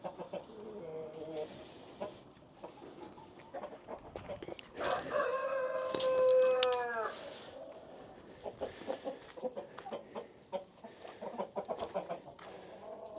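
A black rooster crows once clearly in a backyard coop while hens cluck and scratch around it, short clucks scattered before and after the crow at moderate distance with no talking.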